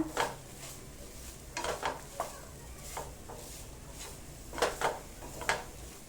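Spoon scraping and clinking against a pan while jaggery melts over a low gas flame, in soft irregular strokes with faint sizzling underneath.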